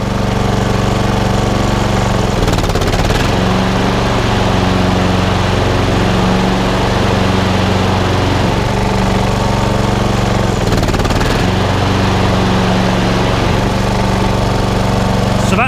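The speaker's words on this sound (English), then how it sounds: "Now going to depress the rotor clutch." A Honda HRX 476 lawnmower runs steadily with its rotor clutch engaged, a loud, continuous engine drone with a buzzing blade hum. There are brief load dips and surges around the third and eleventh seconds, and no talk.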